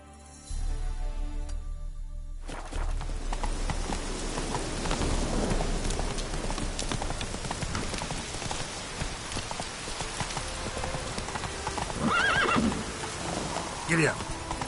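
Roach, a horse in The Witcher 3, gallops through heavy rain with a steady wash of rainfall, faint hoofbeats and a brief neigh near the end, all fairly loud and continuous. Someone speaks briefly over it.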